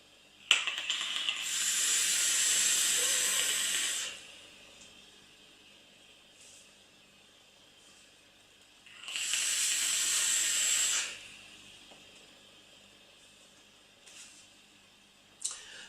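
Two long, steady vaping draws on a Narda atomizer at 30 watts and 0.60 ohms, each a close, hissing sizzle lasting a few seconds, separated by a quiet pause.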